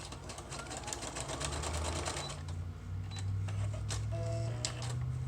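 Sewing machine stitching down a fabric edge while making craft paper for a junk journal, a steady close whirring hum with rapid needle clatter, starting and stopping in short runs.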